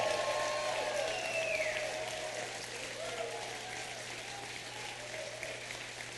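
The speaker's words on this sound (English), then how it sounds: "Let's give him a round of applause for turning around the economy" Crowd applauding at a 2012 political rally for a governor's recall election, with sustained dense clapping that stays loud throughout and tapers slightly; faint voices and whistles rise above it.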